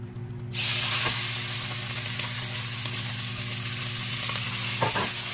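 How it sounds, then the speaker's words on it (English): Seasoned shrimp hit hot oil in a pot for a garlic butter Cajun shrimp and rice dish, setting off a sudden loud, steady sizzle that holds strong and close throughout, with faint stirring clicks. "We're going to add our seasoned shrimp to the pot."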